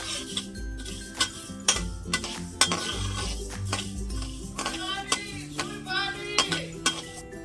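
Whole panch phoron spices dry roasting in a pan, heard as a spoon or spatula clinking and scraping against metal in quick irregular strokes, close and moderately quiet.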